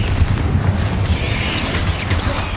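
Confringo, the explosive fire spell in Hogwarts Legacy, bursts in a dense, rumbling blast that fills the whole moment with loud booming crackle from start to finish.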